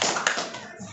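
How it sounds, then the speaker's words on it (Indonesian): Audience at a school visit clapping together, a dense burst of hand claps sustained close and loud for a brief moment. "Tepuk tangan untuk kita semua"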